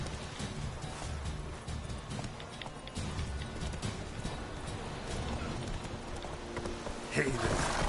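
Hooves of Geralt's horse Roach clip-clop steadily in The Witcher 3, an even rhythmic trot beneath ambient game sound.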